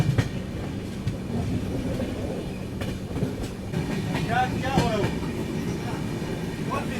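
A train rolls through the small Tangla station near Bongaigaon, with a steady rumble of wheels on rails, occasional clicks and a faint wheel squeal, heard from on board at moderate loudness.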